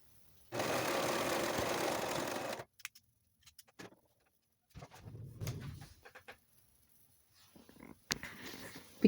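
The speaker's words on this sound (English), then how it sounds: "Now I am serging the shoulders of my tank top" A serger stitches the shoulder seams of a tank top in a steady, close, rapid whirring run of about two seconds. Quiet handling noises and short, softer bursts of machine sound follow.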